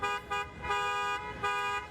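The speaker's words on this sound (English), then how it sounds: "An estimated 500 taxis blaring their horns against the ride booking service called Uber." Hundreds of taxis blare their horns in a street protest outside Toronto City Hall, overlapping honks swelling and fading in loud repeated blasts.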